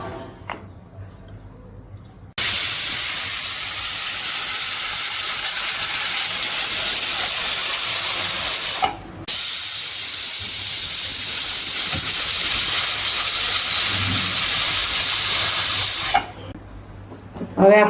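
A pressure cooker cooking Gujarati dal or potato curry vents a loud, steady hiss of steam for several seconds, breaks off briefly, then hisses again before falling quiet, heard close and alone.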